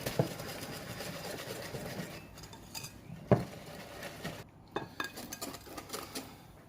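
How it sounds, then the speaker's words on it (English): A whisk clinks and rattles around a bowl as milk is beaten into cake batter: a run of quick metallic taps and swishes, close and fairly quiet, with a few louder knocks. "Start whisking."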